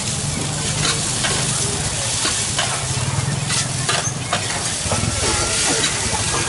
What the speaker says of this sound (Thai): อีกอันนึงก็ทอดไข่ไป